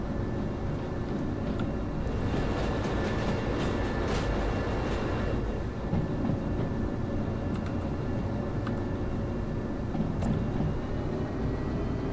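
Locomotive running in the video game Derail Valley, a steady loud rumble of engine and wheels on rails with faint clanks and squeals, continuous and close throughout.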